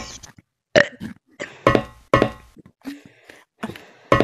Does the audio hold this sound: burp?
yes